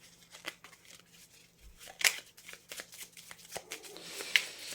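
Oracle cards being shuffled by hand in a quiet room, a steady run of soft riffling and flicking card noise with two sharper snaps, close and clear with no talk.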